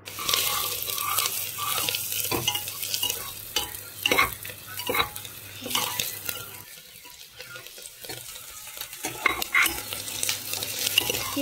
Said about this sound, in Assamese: এতিয়া এটা কুকাৰত তেলখিনি দি ইয়াত মই ৰিফাইন তেল দিম। দি পেলাই পিয়াজখিনি ভাজি লম।